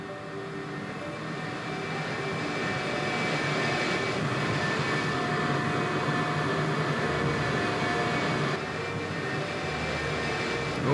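An F-4 Phantom's jet engines in the DCS flight simulator game, a loud, steady roar and whine holding at an even level throughout, with no talk.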